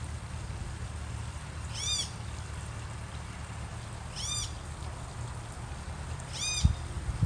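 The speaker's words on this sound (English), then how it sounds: "Y'all hear the birds?" Birds call outdoors on a sunny day: three short, bright chirps spaced a couple of seconds apart ring out over a steady low background rumble.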